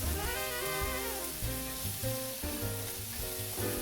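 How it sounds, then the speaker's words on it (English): Chopped vegetables sizzle in a hot pan as they are stirred for an omelet, a steady hissing fry running throughout under prominent melodic background music. "you just want to stir this around and keep it moving so everything cooks nice and evenly"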